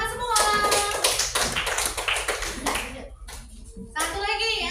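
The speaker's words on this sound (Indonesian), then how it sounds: "Tepuk tangan semua" Children in a classroom clapping their hands, a burst of quick, loud claps close by amid excited young voices and chatter, pausing briefly and then picking up again.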